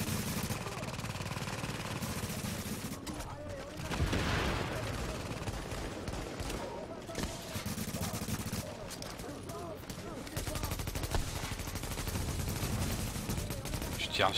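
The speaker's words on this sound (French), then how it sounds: "Je tire n'importe où, hein, mais vraiment n'importe où là" Dense bursts of automatic gunfire from a shooter game set on city streets, rapid rattling volleys layered over each other with a loud crack near four seconds, steady and close throughout.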